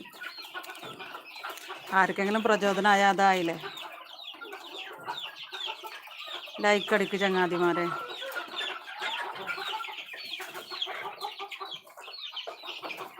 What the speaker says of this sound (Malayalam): ഇനി ആ കൂട്ടിലുള്ള കോഴികൾക്ക് കൊടുത്തിട്ടില്ല അവർക്കൊന്ന് കൊടുക്കട്ടെ